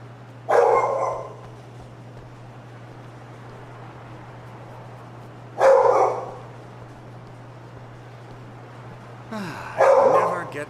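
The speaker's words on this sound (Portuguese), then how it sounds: "meu cachorro tá latindo e não deixa eu jogar." A pet dog barks in three separate bursts spaced a few seconds apart, fairly close by indoors, over a steady low electrical hum.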